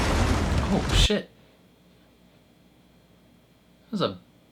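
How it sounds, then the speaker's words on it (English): A big explosion in the Thunderbolts movie, a loud close blast with a roaring burst that cuts off after about a second, followed by quiet and a short second boom near the end. "That was a big explosion"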